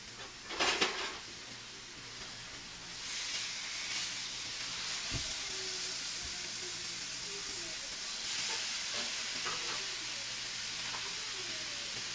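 Pork frying in a pan during home meal-kit cooking gives a steady, quiet sizzle and hiss, with a few brief clatters of utensils near the start.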